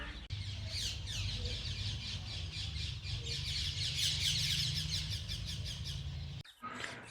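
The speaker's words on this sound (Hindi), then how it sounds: "और पक्षियों का कलरव आप सुन रहे हैं।" A dense chorus of parrots and other birds chirps and squawks continuously, many calls overlapping over a low rumble before cutting off abruptly near the end.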